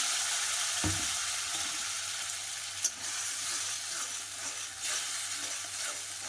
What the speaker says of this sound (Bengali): গ্যাস কমিয়ে এইভাবে নাড়তে থাকবো